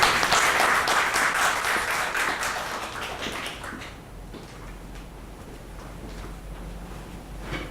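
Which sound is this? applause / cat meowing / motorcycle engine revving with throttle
applause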